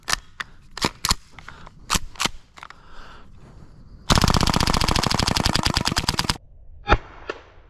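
An underbarrel airsoft shotgun fires BBs: sharp, snappy pops spaced irregularly, then a long rapid burst of clattering shots lasting about two seconds, followed by a couple more single cracks, all close and loud.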